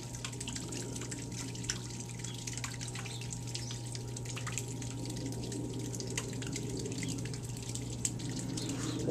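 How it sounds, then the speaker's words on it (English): Water pumped into a backyard pond being enlarged, heard as quiet, irregular dripping and trickling over a steady low pump hum, fairly faint and with no talking. "All the water just is pumping there."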